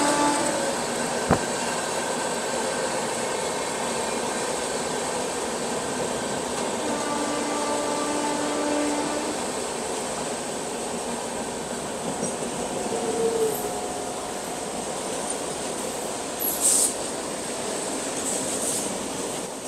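A passenger train runs on the newly gauge-converted Gwalior–Sumaoli line, heard from on board as a steady, close, continuous rumble of wheels and carriage noise with faint squeals and rattles throughout, and no talk.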